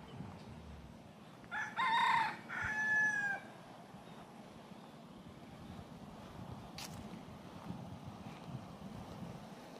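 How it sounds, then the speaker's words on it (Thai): A white bantam rooster crows once, loud and fairly near, with a drawn-out call over steady wind and low rumbling background noise at a temple in Ratchaburi, Thailand; no talking. "มีไก่แจ้ขาวๆอ่ะไก่แจ้ตัวเตี้ยๆ"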